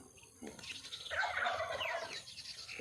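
Farmyard chickens on a self-sufficient countryside garden homestead cluck and chatter in a short, fairly faint burst, with a soft patter of background noise around them.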